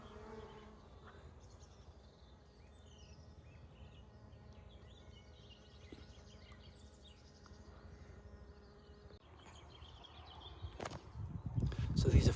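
Solitary bees buzz around a bee box set in a soft lime-mortar garden wall, a faint, thin drone that rises and fades as insects come and go, with a louder rustle near the end.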